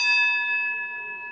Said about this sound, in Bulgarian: Началото и края на всяко пленарно заседание ще отчита звънецът от старата